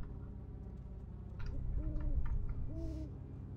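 Two wavering owl hoots from a video game set in an Egyptian tomb with a sarcophagus, each a short rising-and-falling call over a steady low ambient rumble, with no talking.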